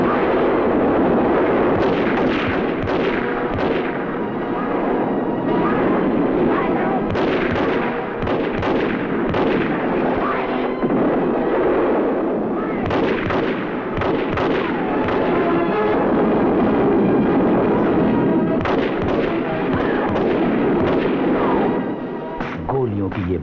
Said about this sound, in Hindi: सैनिकों ने अंधाधुंध गोलियां बरसानी शुरू कर दी।